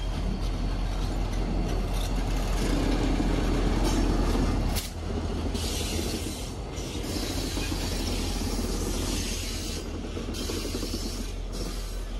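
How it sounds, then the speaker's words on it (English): A switcher locomotive shoves a train slowly eastbound along the Worcester Main Line in Cambridge, Massachusetts at night, with low mechanical droning, clanking couplers and occasional metallic squeals, steady and moderately distant. "the switcher begins their eastbound shove down the Worcester Main Line"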